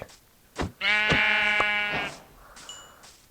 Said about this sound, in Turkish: Şuradaki aha koyun.